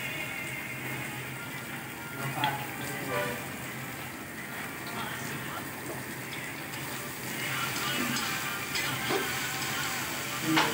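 Garlic and fish hiss and sizzle in hot oil in a pan, a steady, moderately quiet crackling wash that swells slightly toward the end, with faint talking in the background.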